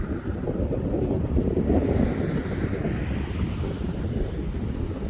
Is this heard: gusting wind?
yes